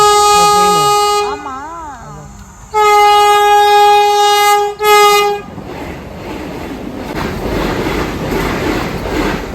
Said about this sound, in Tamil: வந்தே பாரத் இதா அப்படின்னா புதுசாக அதை லான்ச் பண்ணியிருக்காங்க கன்னியாகுமரிக்கு